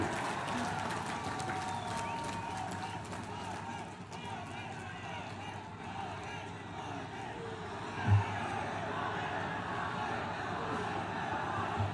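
A large crowd at a political rally claps and cheers in a broad, distant wash of sound that holds steady throughout, with a single brief thump near the end.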